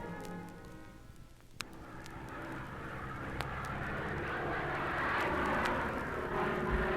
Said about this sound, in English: the funny, frail, single-motored biplane zooming low over the county fairgrounds